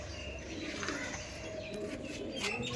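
Madrasi pigeons cooing inside a loft, soft low rolling coos overlapping at a moderate distance, with faint chirps and shuffling and no voices.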